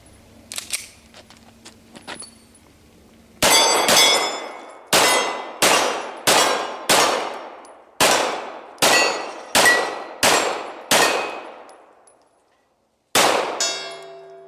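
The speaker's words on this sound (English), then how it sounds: "Let me take a couple more shots real quick" Beretta 92FS pistol fired at a steel target outdoors, a series of about a dozen loud, sharp shots, each followed by a ringing metallic clang that decays, spaced irregularly with a longer pause before the final shot.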